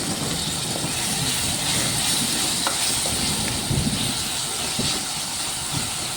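Ginger garlic paste and tomato fry in a pan with a loud, continuous sizzling hiss and occasional light clicks of stirring, no talking, for banana flower curry.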